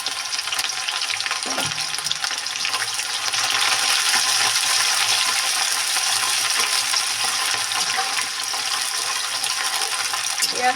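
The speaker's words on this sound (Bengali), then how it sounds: "এইবার দিয়ে দেবো পেঁয়াজ।" Sliced onion hitting hot oil with browned cumin seeds and bay leaf, for a winter duck curry; a loud, steady crackling sizzle fills the clip after a brief clatter near the start, with a few stirring scrapes and no talking.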